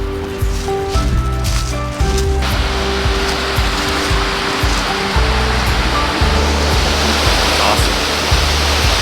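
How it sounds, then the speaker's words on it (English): Waterfall rushing on a hike, a loud broad steady roar of falling water that swells after a couple of seconds, with low rumbling underneath. "Starting to hear the waterfall."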